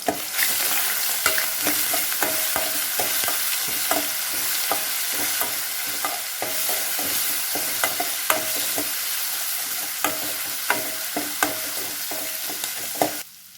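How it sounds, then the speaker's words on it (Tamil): Masala sizzling in hot oil in a pan for a Tamil fish curry (meen kulambu), with a spoon scraping and stirring in irregular clacks over the constant loud frying hiss. "பச்சை வாசம் பொருளும் நல்லா வணக்கிக்கலாம்."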